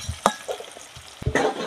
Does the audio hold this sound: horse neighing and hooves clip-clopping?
no